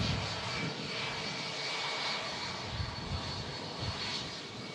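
An Atlas Air Boeing 747 departs, its jet engines producing a steady, distant roar that swells and fades gently across the whole stretch with no talking.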